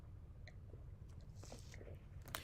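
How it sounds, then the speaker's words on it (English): Someone swallowing loudly right at a microphone, with a few close, wet gulps and mouth clicks over a steady low background hum. "Excuse the loud swallowing."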